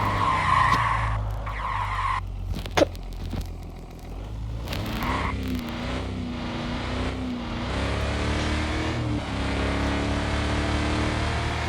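Tires skid and squeal as a 2026 Audi Sportback petrol car drifts in a driving video game, with steady engine drone and a sliding squeal sustained over the whole stretch after a brief sharp knock.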